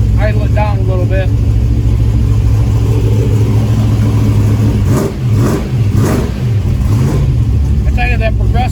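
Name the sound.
1971 Chevrolet El Camino Super Sport engine idling and revving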